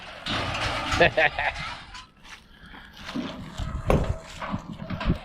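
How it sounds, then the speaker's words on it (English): Cows' hooves clomp and shuffle over hard ground as the herd moves nearby, mixed with people talking and some rustling. "There's the cows coming."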